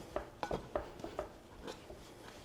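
A Danish whisk works through sourdough bread dough in a bowl, giving a series of soft, faint clinks and scrapes in an uneven rhythm, close by and quiet.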